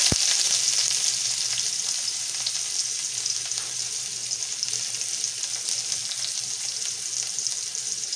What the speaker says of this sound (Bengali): এখানে তেলটা দিয়ে দিয়েছি আমি কড়াতে, প্রথমেই এর মধ্যে এই যে পেঁয়াজ কুচি দিয়ে দেবো